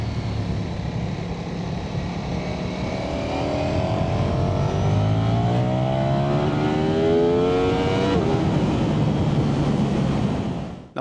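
A 2025 Ducati Streetfighter V4S gurgles steadily while being ridden, its engine note rising and sweeping upward, loud and close, with no one talking.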